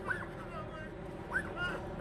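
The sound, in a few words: police K9 dog whimpering after being shot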